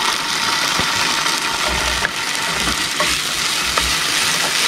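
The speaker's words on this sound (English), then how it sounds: "Now we'll just add the green curry paste. We'll fry that off a little bit." Green curry paste fries and sizzles in a pan on a boat while being stirred, a steady bright hiss with intermittent scrapes and soft knocks, and a low engine-like hum underneath.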